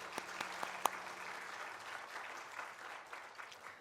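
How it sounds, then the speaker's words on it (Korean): A church congregation at a Sunday worship service applauds, a dense, even roar of clapping heard from a slight distance, with a few sharper claps near the start. "우리 하나님께 영광의 박수 올려드리겠습니다."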